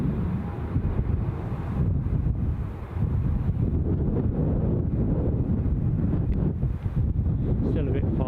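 A strong wind blows across the microphone while plane spotting at Newcastle International Airport, with heavy, constant low buffeting and rumble the whole time.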